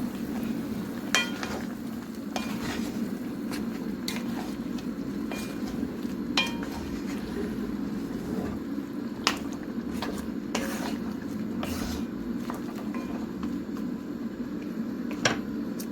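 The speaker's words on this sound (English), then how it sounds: "So now I'm gonna put in my onions. It's my onions to go in there to cook." Onions cooking in a pot for West African okra soup, a low steady sizzle with scattered clinks and scrapes of a utensil against the pot, no talking.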